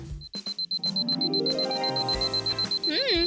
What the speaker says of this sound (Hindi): उसे अलार्म की आवाज सुनाई नहीं देती और मुझे भुगतना पड़ता है।